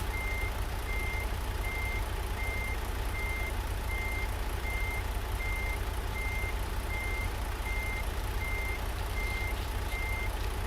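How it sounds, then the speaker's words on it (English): A truck's backup alarm in American Truck Simulator beeps steadily in an even, unbroken rhythm over a constant engine hum, clear and alone with no voices. "Matt, you got your backup alarm on?"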